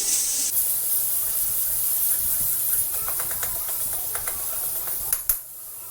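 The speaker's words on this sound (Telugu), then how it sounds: "ఇది మసాలా పచ్చివాసన పోయే వరకు వేయించుకోవాలి" Masala frying on a tawa for pumpkin fry, a loud continuous steamy hiss close by, with scattered small pops and spatters building toward the end before a sharp clatter and a quieter tail.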